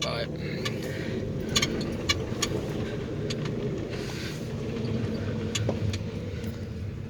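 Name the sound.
Ford Ranger V6 pickup truck, back tires spinning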